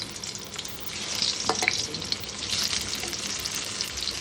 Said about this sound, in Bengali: আলুগুলোকে ভেজে নিতে হবে।